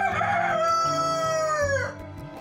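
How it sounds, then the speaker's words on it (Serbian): A pet rooster crows on command indoors in a living room, one long, loud cock-a-doodle-doo close by that trails off at the end. "A ovo je drugi Milenkov ljubimac koji u dnevnoj sobi kukuriče po komandi."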